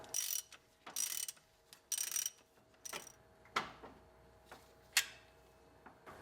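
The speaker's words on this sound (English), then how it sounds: "Now reattach the power steering bracket and torque it down." A ratchet wrench torques down the power steering bracket on a 1980-1996 Ford Bronco engine, giving a series of quiet, close bursts of rapid clicking separated by short pauses.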